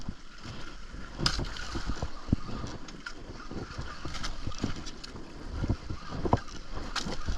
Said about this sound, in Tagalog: Lakas din ang hangin.